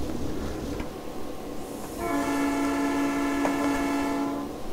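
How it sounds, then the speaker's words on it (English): Cab interior of an EMD SD9 locomotive in Train Simulator Classic, with a steady engine rumble, then a loud, sustained multi-chime horn blast that holds for about three seconds, heard alone without talk. "Really like hearing that horn inside the cab."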